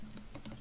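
Soft, quick keystrokes on a computer keyboard, a short faint patter of a few taps heard up close in a quiet room.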